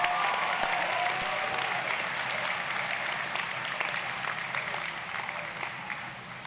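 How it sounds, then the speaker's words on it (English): A large audience at a university undergraduate commencement applauds the graduates, a dense sustained clapping that gradually thins and softens over several seconds. "Yes, we can applaud again for you."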